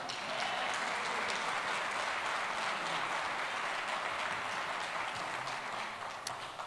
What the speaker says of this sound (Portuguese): E você pode dar mais um aplauso ao Espírito Santo?